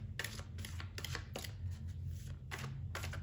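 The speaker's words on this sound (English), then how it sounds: "I am nearly done shuffling." Babylonian Tarot cards being shuffled, quiet repeated riffling bursts in an uneven rhythm, close and soft, with no voices.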